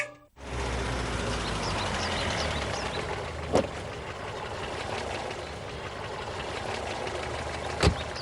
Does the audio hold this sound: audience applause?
no